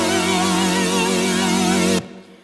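Saw-wave synth chords with six unison voices, compression and heavy vibrato modulation, sustaining steadily with a low bass layer for two seconds before cutting off abruptly.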